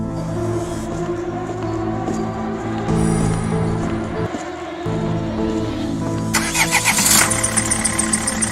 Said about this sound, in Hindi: गुल्ली बुल्ली गाड़ी में बैठकर शॉन के घर की तरफ निकल जाती हैं।